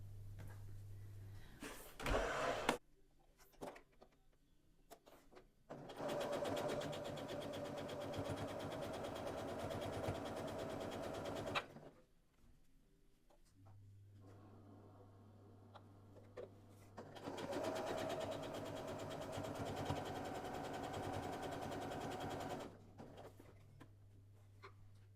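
Sewing machine stitching together panels made from fabric scraps and leftover fabric, running in two long steady bursts of several seconds each with a pause between, close and fairly loud, no talking.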